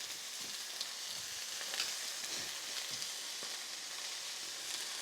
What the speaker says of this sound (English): We want that surface area of the chicken to be cooking between the oil and that pan